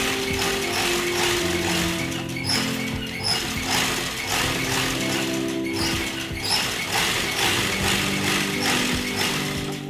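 A sewing machine stitches blouse fabric, running in a steady, dense mechanical rattle throughout that is close and loud, with no talk over it.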